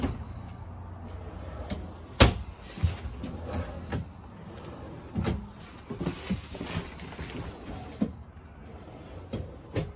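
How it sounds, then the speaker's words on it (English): Self-closing drawers in a 2020 Coachmen Mirada 32SS RV slide shut one after another, giving soft thuds and knocks spread across the stretch, with one sharper bump near the start over a low background rumble. "self-closing drawers. Those are huge."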